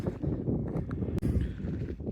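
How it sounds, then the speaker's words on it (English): Steady, blustery wind roars across the microphone throughout, loud and close, with low rumbling buffeting and brief gusty dips, high on a hiking trail in Draper, Utah. "Kind of windy up here."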